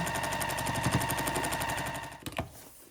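A sewing machine runs in a fast, steady mechanical chatter while stitching a scrappy sampler quilt block, close and continuous before slowing and stopping near the end with a couple of clunks.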